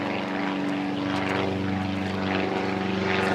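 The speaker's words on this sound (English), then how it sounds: "We have a lot of airplanes over here." Loud, droning propeller-plane engine roar passing overhead, steady and continuous with a low harmonic hum, no talking.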